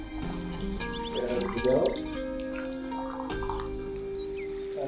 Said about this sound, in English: And now the final pour.